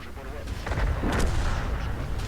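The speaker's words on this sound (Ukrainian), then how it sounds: "Чуємо, що бабаха відстрілялася" A self-propelled artillery gun fires in a tank video game: one heavy, booming blast with a rumbling, noisy tail filling about two seconds.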